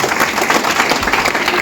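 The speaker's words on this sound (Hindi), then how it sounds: "गौतम वाली सर के लिए तालियां चाहूंगा जरूर" A large audience at a Vestige direct-selling corporate meeting breaks into loud, sustained applause, a dense continuous wash of many hands clapping at once.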